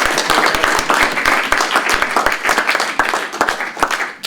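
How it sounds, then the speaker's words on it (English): Audience applause at a student union election question time, a dense burst of many hands clapping that stays loud and steady throughout. "Can we give a quick round of applause"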